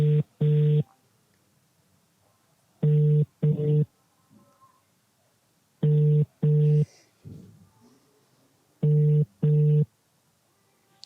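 A telephone ring-back tone sounds while calling someone, repeating in evenly spaced double beeps four times, clear and steady, with faint background noise between.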